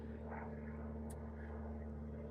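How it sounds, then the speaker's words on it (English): A propeller airplane passes overhead as a steady, continuous drone, fairly faint and distant, with a low constant hum throughout and no talking. "There's a plane flying over."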